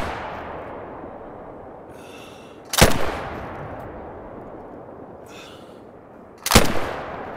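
Two loud, sharp Frost 257 rifle shots in theHunter: Call of the Wild, spaced several seconds apart, each with a booming crack followed by a long rolling echo that fades into quiet outdoor ambience.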